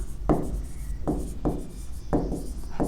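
Chalk or marker strokes on a classroom board during an environmental engineering lecture, a few rubbing scrapes in irregular bursts, close and fairly quiet with no talk over them.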